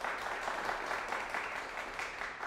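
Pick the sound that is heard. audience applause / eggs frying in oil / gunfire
audience applause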